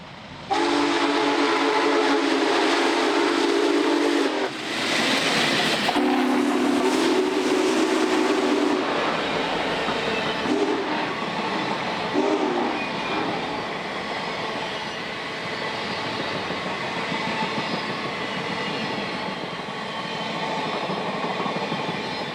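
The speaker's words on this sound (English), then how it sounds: "Big Boy was already halfway across the bridge." Union Pacific Big Boy 4014, a huge 1940s steam locomotive, crossing a bridge: loud, continuous rumble and clatter of the train with a steam whistle sounding near the start, running steadily for the whole stretch.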